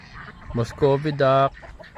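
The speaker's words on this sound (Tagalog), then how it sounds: "Meron na siyang pato. Ayun oh, Muscovy duck." Harsh, hoarse honking calls from a Muscovy duck on a farm, a few bursts over about a second, close by with faint background noise.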